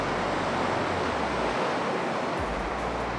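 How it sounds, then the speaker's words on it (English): Ocean waves break against coastal rocks in South Africa, giving a continuous loud roar of surf with wind noise and no distinct individual crashes. "The waves are ridiculous."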